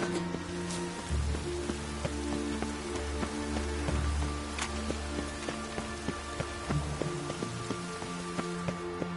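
Rain in the video game Witcher 3 falls steadily and patters on surfaces, a constant close hiss with faint game ambience and scattered tonal chimes underneath.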